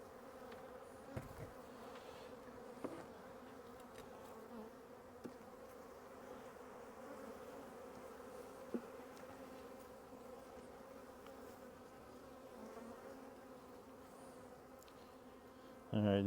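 Honey bees hum steadily around an open double-deep hive during a spring inspection, a dense, continuous buzz close up, with a few faint knocks of frames being handled.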